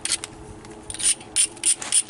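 Edge of a Flint Ridge flint blade preform being ground down, giving several short, harsh scraping bursts, with the bursts coming closer together toward the end, close by with no talk.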